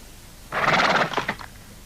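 A single horse neighs loudly, a shrill whinny lasting about a second that trails off into shorter breathy pulses.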